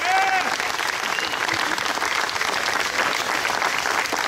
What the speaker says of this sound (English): Can we give one round of applause for our new elected officials,